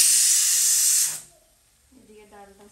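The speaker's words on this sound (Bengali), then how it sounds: "এদিকে ডালটা সিটি মারছে" A pressure cooker of dal lets out a loud, steady hiss of steam for about a second, then cuts off abruptly, leaving near silence with faint, soft tones afterward.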